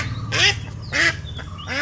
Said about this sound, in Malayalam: ഇത് നമ്മളെ നാടൻ താറാവ്